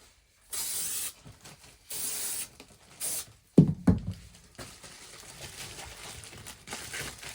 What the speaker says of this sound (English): I'm just going to spray again.